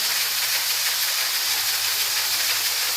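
Dahi bhalla lentil fritters sizzle in hot frying oil, a steady, continuous broadband hiss holding at an even level for the whole stretch with no talk over it.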